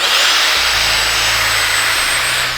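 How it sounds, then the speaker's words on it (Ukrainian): A Metabo W 18 L 9-125 Quick cordless 125 mm angle grinder is switched on and runs at full speed, a loud, steady high whine that holds for over two seconds. "Запускаємо саму кутову шліфмашину."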